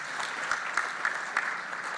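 An audience applauding a county deputy governor at a public gathering, a brief steady patter of many hands clapping with a few louder claps standing out, moderately distant.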